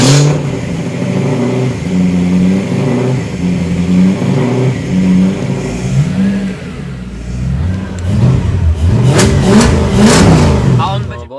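A V8-swapped Mazda Miata engine starts and revs in bursts, a deep throaty idle rising and falling through several throttle blips, loud and close, with people talking over it.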